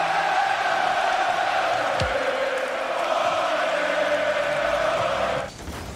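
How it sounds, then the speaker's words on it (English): Crowd cheering in the video game Rocket League during a match, a steady loud roar of arena noise that holds evenly for several seconds and then drops off abruptly near the end. "Crowd going wild."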